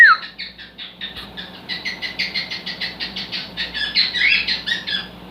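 A pet cockatiel chirps close by in a quick, steady string of about twenty bright, repeated chirps, with no one talking over it.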